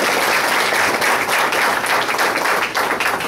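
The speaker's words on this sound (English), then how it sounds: "So I really want to applaud you, Pat." Steady, loud applause from an audience at the 2011 Naylor Center dedication, dense clapping filling the whole stretch without letup.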